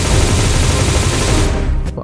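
Gunfire in the battle-royale game Surviv.io, a loud dense burst of shots filling most of the moment before cutting off sharply near the end.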